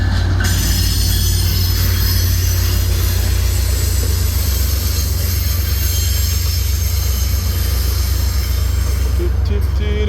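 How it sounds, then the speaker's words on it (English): A passing train rolls by loud and close, steady heavy rumble with a continuous high metallic squeal from the wheels over about ten seconds. "I'm gonna let the train pass."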